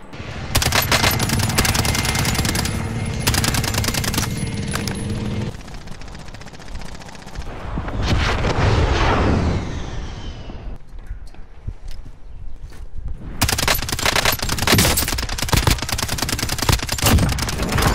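Rapid bursts of Striker 45 submachine gun fire in the Warzone shooter, loud and close, with repeated volleys separated by brief pauses and clatter of movement between.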